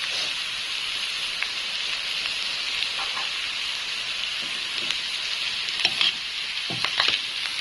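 Vegetables and tomato sizzle steadily as they are stir-fried in a pan for a northern Thai vegetable yam. The frying hiss is continuous and fairly close, broken by occasional scrapes and stirring clicks toward the end.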